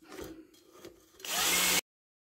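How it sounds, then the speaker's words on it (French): A wire brush mounted on an electric drill scrubs dirt off a lawn mower blade, a short loud grinding whir that starts after some faint handling noises and cuts off abruptly. "j'ai pris, on va dire, une brosse métallique qui se monte sur une perceuse électrique."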